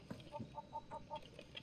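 A rooster in the video game Far Cry 6 clucks faintly in a steady series of about five short, evenly spaced clucks over a soft background hum.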